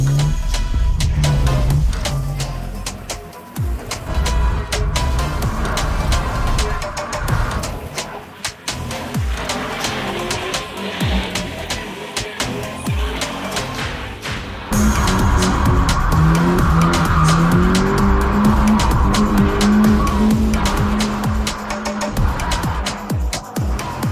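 Loud engine revving from a budget drift car with repeated short tire chirps and squeals as it turns, continuous and close, no talking.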